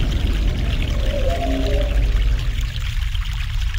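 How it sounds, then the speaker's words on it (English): Mountain stream in the adventure game The Longest Journey: steady, loud rushing and pouring water with a brief tonal whine in the middle, continuous throughout. "Fresh mountain water."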